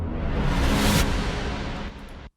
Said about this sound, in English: It has a downer and a riser at the same time,